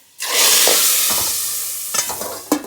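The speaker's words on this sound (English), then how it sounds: "That's the sound of when you chunky dal" A loud burst of hot oil sizzling as spices hit the pot of split-pea dal, fading into a steady crackle with a few stirring clinks near the end.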